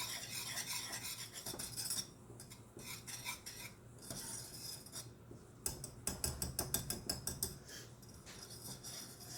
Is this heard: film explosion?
no